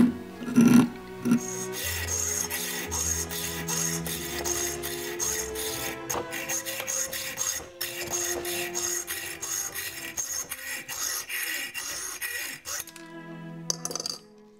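A small file rasps back and forth against a miniature axe head, the strokes close but fairly quiet, scraping in an uneven rhythm with a few light clinks.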